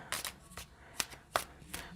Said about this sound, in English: just going to finish shuffling here.